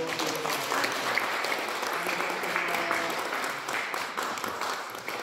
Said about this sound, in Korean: 은혜에 감사하는 마음으로 박수로 하나님께 영광 돌리고